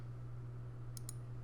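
Two quick, light computer mouse clicks, close and faint, over a steady low electrical hum.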